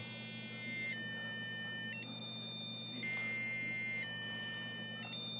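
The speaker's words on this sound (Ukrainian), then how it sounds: "Ось такі у нас можна робити моменти із даним е, зумером" Small electronic buzzer playing a programmed sequence of notes, thin stepped beeping tones switching pitch about once a second over a steady low hum, alone with no voices.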